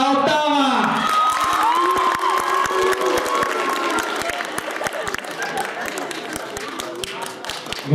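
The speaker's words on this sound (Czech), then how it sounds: "No a nyní ten největší potlesk večera, i když je dopoledne." An audience at a school student music festival breaks into dense applause with cheering, whoops and shouting voices over a fading musical chord, the clapping continuing loud and thick throughout.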